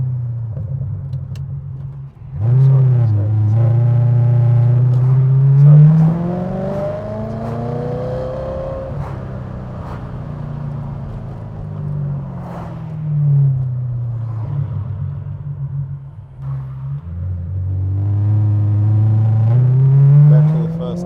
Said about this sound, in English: on the downshift, you have beautiful pop and bang. You know, it's an incredible sound from the exhaust.